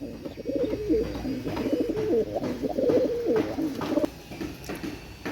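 Pakistani imported pigeons coo in low, throaty, repeated bursts, several birds close by calling almost continuously for about four seconds before quieting, with faint rustling around them.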